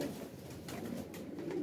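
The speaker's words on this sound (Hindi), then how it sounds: "ए हुण कबूतर आ वीर जी" Domestic pigeon kept by a pigeon breeder, cooing softly and continuously at close range, a low murmuring call running through the whole short stretch with no talk over it.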